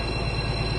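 Heavy diesel engine drone of a DB BR 218 locomotive in Train Sim World 4, a loud, steady, close rumble with a dense hum and no other sounds over it.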